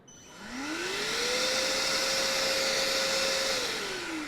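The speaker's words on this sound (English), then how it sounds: "That's a relatively quiet vacuum. Let's go and kick it up on high." A Ryobi 40V shop vacuum spins up to its high setting, its motor whine rising over about a second and then holding a steady, close airy roar before easing slightly at the end.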